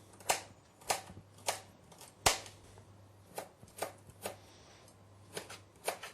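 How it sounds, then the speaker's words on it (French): Knife chops garlic cloves finely on a board, sharp evenly spaced strikes, about a dozen, close and fairly quiet over a low background hum. "Alors nous prenons nos 5 gousses d'ail qu'on va couper finement"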